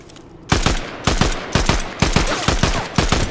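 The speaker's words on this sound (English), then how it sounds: "I'm gonna shoot that tree." Gunshots fired at a tree in Fortnite: loud, close, sharp reports in a regular rhythm of evenly spaced shots, some coming in quick pairs, with no talking over them.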